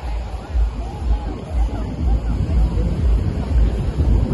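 Busy evening beach at Batu Bolong, Canggu, during Ngembak Geni: surf rolls in steadily under wind buffeting the microphone, with a low hubbub of crowd chatter throughout.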